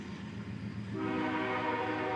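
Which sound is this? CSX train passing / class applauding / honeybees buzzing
CSX train passing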